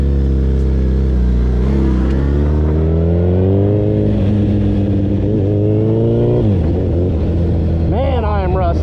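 A street/strip Suzuki Hayabusa motorcycle makes a hot lap at a drag strip, its engine roaring loud and close as the pitch climbs steadily, with a sharp gear change before revving up again.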